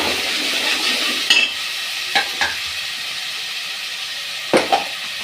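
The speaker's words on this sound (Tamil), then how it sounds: "கடுகு வெடிக்குதா, வெங்காயம் போட்டுக்கலாம். நசுக்கி வச்சு பூண்டு போட்டுக்கலாம்." Mustard seeds, onion and crushed garlic fry in hot oil for a Tamil kavalai fish curry, giving a steady close sizzle broken by a few sharp stirring clatters.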